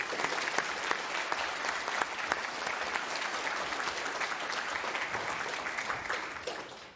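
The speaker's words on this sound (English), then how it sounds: "Give yourself a round of applause" Applause at a graduation ceremony, a steady, moderately distant wash of many hands clapping together that holds for several seconds before tapering off at the end.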